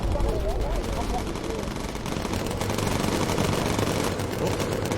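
In the aerial combat game Bomber Crew, machine guns fire incendiary rounds in a dense, continuous rattling stream, mixed with game engine drone and effects throughout.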